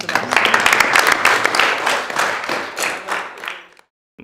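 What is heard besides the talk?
classroom applause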